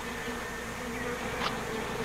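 Bees humming steadily and close during a hive removal, a continuous low buzz with a brief higher whine near the end.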